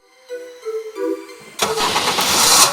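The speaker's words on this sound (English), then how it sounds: "And here you go, the car started." A 2022-2024 Kia Forte fires up by remote starter: a few soft electronic chirps and clicks, then the engine catches suddenly and settles into a loud, close idle.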